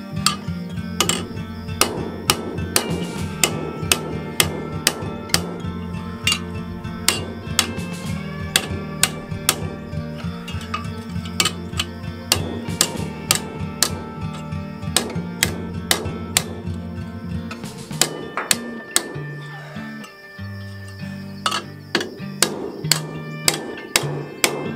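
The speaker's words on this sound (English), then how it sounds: "I'm going to peen it all the way shut to keep the bugs from going in there and making nests." A hammer rings sharply again and again on cold scrap steel over an anvil, closing up a street light made from scrap by peening it shut, with a loud, metallic clang repeating at a steady working rhythm throughout.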